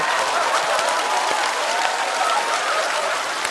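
Audience at a stand-up comedy show applauding, a loud dense burst of clapping from many hands that fills the whole moment steadily without pause.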